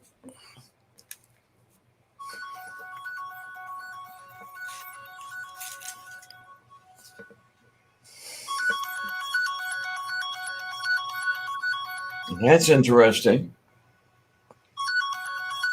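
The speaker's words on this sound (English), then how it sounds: "I've got an incoming call on the phone that I haven't given anybody the number for" A phone ringtone sounds for an incoming call on a number nobody was given, a repeating electronic melody playing in bursts and lasting several seconds, with a brief spoken remark and a loud rustling thump near the end.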